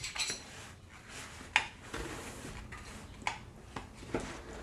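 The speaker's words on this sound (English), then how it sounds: "And I'll cut myself a slice as well." A knife cuts a slice of five-ingredient no-bake cheesecake, with a few soft clinks and taps of metal on a plate spread over several seconds, quiet and close, with no talk.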